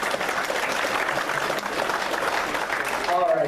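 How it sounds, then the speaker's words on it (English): A round of applause rises from the audience at a veterans' honor and Christmas party, steady and fairly close, with a voice starting to speak over the final moments. "Let's have a round of applause for these ladies,"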